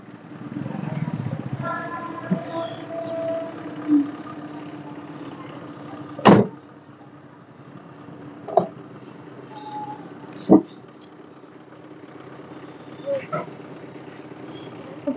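A small taxi car idles with a low engine rumble while bags are loaded, with several sharp thumps and knocks like a trunk or door shutting; people talk nearby.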